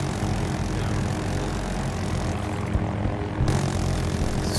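An MD540 Nightbird helicopter in the video game Battlefield 2042 drones steadily with a dense, continuous rotor and engine roar, close and loud, with no voices over it.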